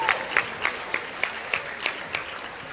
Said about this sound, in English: Let's give a huge round of applause to all our executive board members.